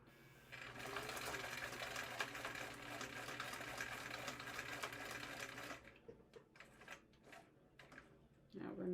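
A sewing machine runs a long, steady stitching burst at its top stitch length while sewing a minimalist wallet, then stops and gives a few short, scattered stitches and mechanical clicks as the needle is positioned to pivot at a corner.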